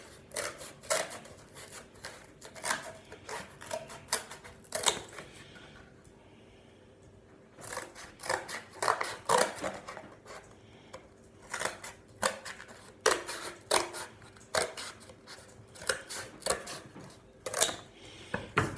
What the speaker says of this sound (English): I'm going to go ahead and cut that out using my scissors